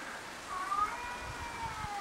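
A house cat on a family trip to Florida gives one short, faint meow over a low, steady indoor hum, with no voices.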